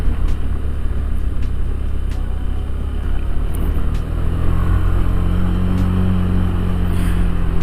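Modified Honda Beat Deluxe scooter revving uphill, a loud, close, continuous engine drone with gritty rumble that rises in pitch partway through as the throttle opens, with no talk.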